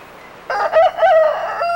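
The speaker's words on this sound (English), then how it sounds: "what is he saying with this crow?" A rooster gives one full, loud cock-a-doodle-doo crow, close and clear, rising and wavering through its drawn-out middle before it cuts off.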